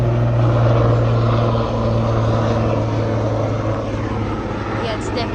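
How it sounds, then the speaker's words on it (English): Police helicopter flying overhead, its steady droning rotor and engine rumble loud and continuous throughout, with a voice talking beneath it. "Yeah, it's definitely a police helicopter."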